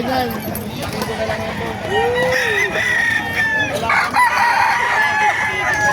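Roosters crow and chickens cluck close by amid a busy crowd at a chicken market in Bocaue, Bulacan, with people talking over the birds throughout.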